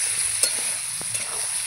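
Chicken meat frying in a kadai is stirred, a steady close sizzle with a few soft scraping knocks of the spoon against the pan.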